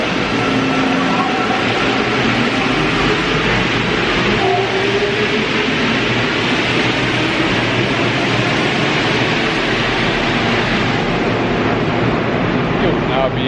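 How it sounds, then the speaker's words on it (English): A Santiago, Chile metro train rumbles through an underground station, a loud continuous roar of wheels and motion filling the space with steady noise throughout. "The metro is moving, so yeah."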